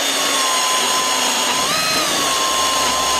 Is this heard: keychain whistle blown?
no